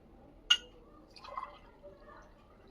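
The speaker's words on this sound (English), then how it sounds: "Now in the second glass we are going to pour warm water." Warm water is poured into a glass already holding sugar: a brief splash followed by a short gurgling fill, close and quiet, with no voices.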